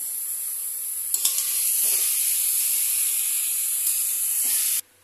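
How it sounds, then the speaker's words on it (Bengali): Chopped bottle gourd with turmeric sizzles steadily in a hot pan, a continuous close hiss broken by a few scraping stirs, cutting off abruptly at the end. "এটাকে ভালো করে নাড়াচাড়া করে কষিয়ে দিতে হবে"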